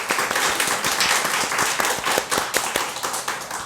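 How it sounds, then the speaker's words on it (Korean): A church congregation claps at a Sunday worship service, a steady, fairly loud round of applause with individual hand claps audible in a quick rhythm throughout, no speech over it. "우리 박수로 격려해 주시기 바랍니다."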